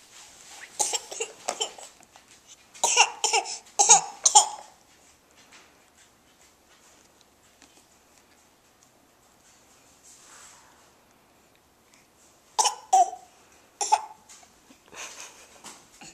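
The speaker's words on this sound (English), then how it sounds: "Is that your fake cough?" Short bursts of fake coughing come in a few quick clusters, fairly close and moderately loud, separated by long quiet gaps, with a second cluster of coughs later on.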